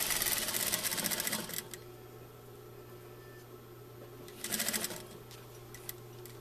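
A sewing machine stitches a zipper into a pillow, running in a fast rattling burst, pausing in near quiet with a low hum, then running again in a shorter burst.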